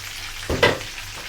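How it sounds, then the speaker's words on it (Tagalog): Tilapia frying in a pan as a piece is flipped, steady low sizzle with a brief louder hiss and clatter at the turn, close by, no talk. "Pihitin ulit natin. Luto na po siguro ang kabilang side."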